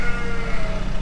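Ewes in a barn bleat loudly and close by, in a dense, overlapping chorus that holds steady for the whole second.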